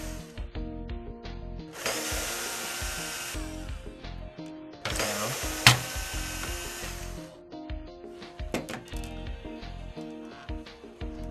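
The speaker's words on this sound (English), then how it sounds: "To remove the power supply, remove the 4 screws," A small power screwdriver backs out the four corner screws holding the power supply inside a PlayStation 2 console, with repeated whirring bursts of motor and the rattle and clicks of handling between them, close and fairly loud.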